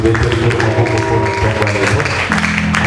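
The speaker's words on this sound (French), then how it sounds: "On applaudit le Seigneur pour ce matin." A church congregation applauds at a morning service, with sustained clapping mixed with music and voices, loud and continuous throughout.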